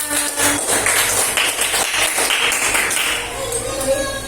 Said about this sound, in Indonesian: Tepuk tangan untuk nambahan